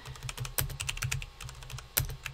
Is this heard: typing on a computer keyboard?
yes